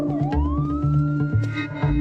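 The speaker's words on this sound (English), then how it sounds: "Then a siren cut through the parking lot." A police-style siren wails through a parking lot, loud and close, its rising tone sweeping over heavy pulsing low thuds, with no voices.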